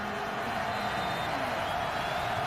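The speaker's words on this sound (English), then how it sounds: "the crowd noise getting to him" Steady roar of a football stadium crowd at an NFL game, Chargers at Chiefs in Kansas City, a dense, continuous wash of noise at even loudness throughout with no clear speech.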